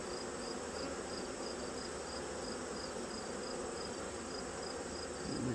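Honey bees at an open hive during a fall swarming attempt give off a steady, dense, faint hum that runs unbroken throughout, with a thin high whine layered above it and no voices.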